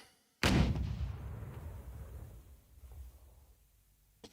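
A single sharp gunshot blast goes off in the turn-based war game Burden of Command, loud and sudden after a brief silence, followed by a long rumbling decay that fades away.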